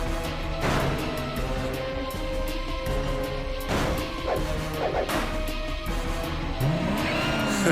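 A car crashes in a zombie film scene: loud smashing impacts and whooshes land in several bursts over a rumbling engine and music, with a squealing sweep near the end.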